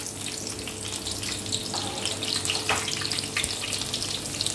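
Onion frying in a pepper sauce with salt, stirred in a pan, a continuous close hiss with a few soft scraping sounds.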